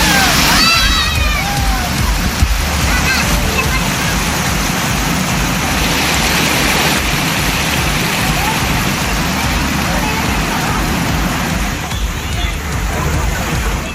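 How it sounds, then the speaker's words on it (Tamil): Water gushes like a waterfall from the Sayakkammai tank at Karaikudi, Sivaganga district, Tamil Nadu, after heavy rain, while families bathe in it. A steady, loud roar of rushing water continues throughout, with a crowd murmuring underneath. "காரைக்குடி சாயக்கம்மாயில் இருந்து அருவி போல வெளியேறிய நீரில் பலர் குடும்பமாக குளித்து"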